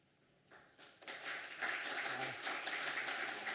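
Applause swells from a conference audience at an NYU urban planning event for a speaker, starting with a few scattered claps and quickly building into sustained, fairly distant clapping from the whole room.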